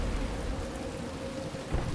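Heavy rain and thunder in the Batman: Return to Arkham Asylum video game, a steady dense downpour with a low rumbling roll underneath and a brief swell near the end, loud and close.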